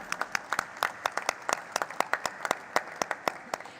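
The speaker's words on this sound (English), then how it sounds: "can we have a thunderous round of applause for Laser Power and Infra" Applause at a stock market listing ceremony for Laser Power and Infra, heard as a scattered run of sharp, fairly close claps in a quick uneven rhythm, moderately loud and without talk.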